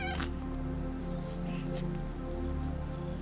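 A cat meows in a drawn-out, tonal wail that holds steady and fairly faint across the whole moment, with a few soft clicks and rustles in the room.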